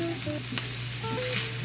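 Shredded chicken frying in a wok-style pan, a steady close sizzle with a brief scrape of stirring and faint tonal hum underneath, heard alone for under two seconds.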